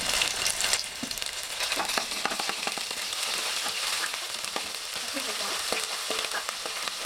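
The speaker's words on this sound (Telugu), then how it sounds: "ఇప్పుడు మనం పోపు దినుసులు వేసుకుందాం." Tempering spices hit hot oil for a vegetable kurma, crackling and spitting loudly up close, with dense popping bursts over a continuous fry and no talking.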